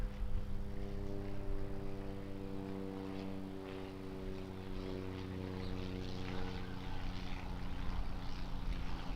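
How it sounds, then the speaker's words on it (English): Cessna 208 Caravan turboprop of Barrier Air at Auckland Airport, a steady droning propeller hum with strong tonal harmonics, holding constant and fairly distant throughout with no voices. "And we've got another prop, different prop. Cessna 208 from Barrier Air."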